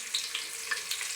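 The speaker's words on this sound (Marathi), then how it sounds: "आता हा कांदा ब्राऊन होईपर्यंत परतून घ्यायचा" Two large onions, sliced lengthwise, fry in a pan until browning for a chicken rice dish, giving a close, steady sizzle with a few brief crackles and pops.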